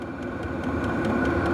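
A Vevor 8kW diesel heater running at level 10 gives a steady, continuous mechanical hum with a faint rhythmic pulsing. It sounds close and moderately quiet, with nobody talking.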